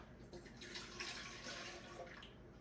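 A cup of milk pours steadily into a blender, a soft continuous liquid rush lasting a few seconds, faint and unaccompanied by talk.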